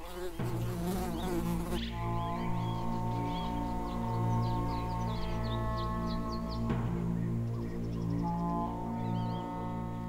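A steady buzzing drone like a fly, continuous and fairly close, with tonal hum throughout and no speech.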